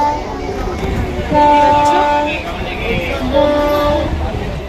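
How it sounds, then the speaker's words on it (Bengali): Steady rumble and rattle of a moving passenger train from inside a carriage, with sustained horn-like tones sounding twice over the running noise and voices talking nearby. "আচ্ছা, আমরা ট্রেনে উঠে গেছি।"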